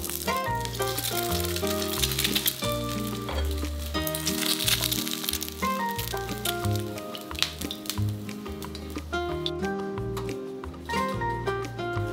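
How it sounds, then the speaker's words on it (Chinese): An egg fries in a pan with a soft, continuous sizzle that sits beneath prominent background music from start to finish. "原锅打入一颗蛋，煎熟"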